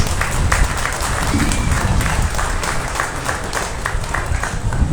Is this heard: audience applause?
yes